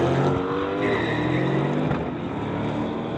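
A Ford Mustang and a 2020 Corvette drag racing side by side on a strip, loud sustained engine roar with rising revs and a gear shift, close and steady throughout.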